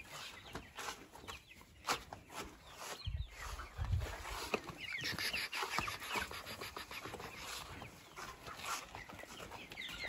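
Chickens and a rooster clucking continuously as they are herded into a village coop, a busy flock sound with scattered louder calls and rustling, fairly close and with no talk.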